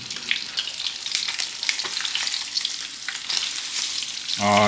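Steady, crackling sizzle of dentex fish frying in hot oil in a pan, continuous and close, with a brief louder clatter near the end.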